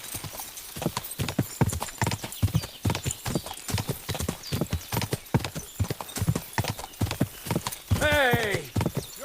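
Rapid, steady hoofbeats of a galloping horse in a video game clatter close by, ending in a loud whinny, while someone talks over the pounding rhythm.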